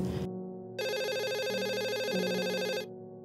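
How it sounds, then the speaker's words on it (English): A telephone ringing in the afternoon, one brief burst followed by a long continuous electronic trill, clear and close with no voices. "The phone rang"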